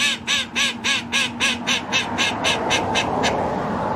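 A lone duck quacks repeatedly outdoors in a garden, a steady series of about a dozen loud, close calls that fade slightly toward the end, with no talking.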